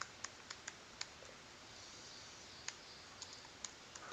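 A computer mouse clicks on a contact link in a web page, giving a few faint, sharp, widely spaced clicks over a quiet background.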